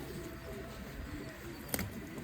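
Pigeons in a loft coo softly and faintly against low background noise, with a brief sharp click near the end.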